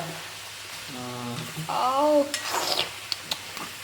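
A spatula stirs and scrapes a paneer chatpata with kasuri methi in a hot pan. Close clinks and scrapes run over a light sizzle, and a brief voice-like sound rises in the middle.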